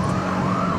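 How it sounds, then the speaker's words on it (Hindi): Wailing ambulance siren on a Delhi road at night, a steady rising and falling tone heard amid traffic noise from a nearby motorcycle. "अबे अब तूने सायरन ऑन कर दिया?"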